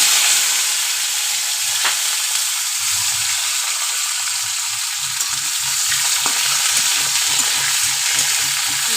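Radhuni seeds tempering in hot oil as cut yardlong beans and potatoes go into the pan, a steady loud sizzle and hiss of frying running throughout with faint stirring clatter, no voices.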